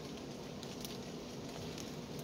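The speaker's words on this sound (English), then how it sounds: "And it's starting to rain." Rain begins falling outdoors, a faint, soft patter of drops that stays even and low throughout, with no voices over it.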